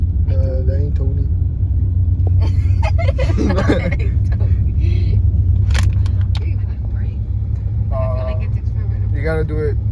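A lifted truck's engine rumbles low and steady from inside the cab while driving, a constant loud drone beneath people chatting and laughing.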